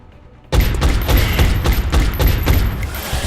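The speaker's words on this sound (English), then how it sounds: "and now we have the Overwatch shot." Overwatch fire in XCOM: Enemy Within opens abruptly as a loud, close burst of automatic gunfire, rapid shots cracking in quick succession for about three seconds with no voices.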